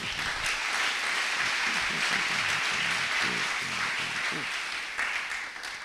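A church congregation applauds and cheers in praise during a sermon, a dense, loud wash of clapping that holds steady for several seconds before easing slightly at the end.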